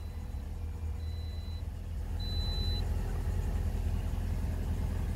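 A 2009 Toyota Corolla engine idles steadily just after a fuel pump replacement, giving a continuous low rumble that grows slightly louder partway through, with a faint high tone briefly above it and no talking.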